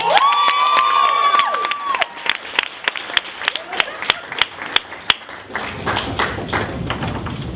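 A stand-up comedy crowd erupts in cheers and whistles over clapping, then the applause thins to scattered, distinct claps and thumps before fading to murmurs.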